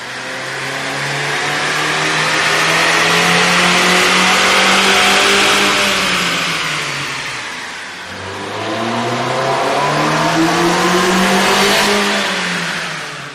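2013–2014 Mazda 3 with a 2.0 L SKYACTIV engine and a K&N air intake, revved loudly twice: a long climb and fall, then a shorter second rise, heard close and alone.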